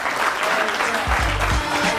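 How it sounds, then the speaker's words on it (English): Audience applause at a speaking event, dense steady clapping filling the whole short stretch, with a brief low rumble partway through. "Give a big round of applause"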